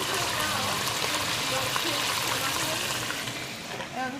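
Beef rouladen with bacon bits browning in a pan, a steady broadband sizzle that stays loud and even throughout, with faint voices in the background.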